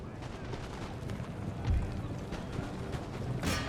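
Musket volley fire in Total War: Empire, a game battle: a brief crackling burst of gunfire stands out near the middle, and a sharper crack comes late, over a steady rumbling battle background, with talk over it.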